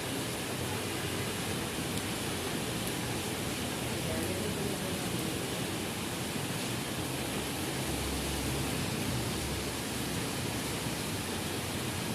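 Heavy rainwater rushes and pours steadily, a dense, even wash of noise that stays constant and moderately loud with no pauses.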